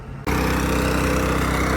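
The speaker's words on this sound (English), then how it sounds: "got the engine running, pumping diesel into the tractor there" A tractor's diesel engine idles close by during refuelling, cutting in abruptly after a brief quieter moment, then holding a loud, steady, throbbing drone.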